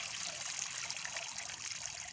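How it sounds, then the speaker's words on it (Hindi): Water trickles and splashes steadily in a homemade water fountain, a continuous close, bright flowing sound with no talking. "आप देख सकते हैं कि पानी आना स्टार्ट हो गया है।"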